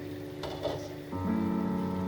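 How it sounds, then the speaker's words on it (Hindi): Water with masala coming to a boil in a pan for a cauliflower kofta curry, a soft steady bubbling hiss up close that grows slightly louder toward the end. "ये देखिए ये पानी बॉईल हो रहा है"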